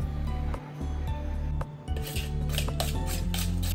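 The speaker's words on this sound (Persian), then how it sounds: "همه مواد رو با هم هم میزنیم." Eggs, herbs and spices for kuku sabzi are stirred together in a bowl, giving close, repeated clinks and scrapes of a utensil against the dish over a steady low hum.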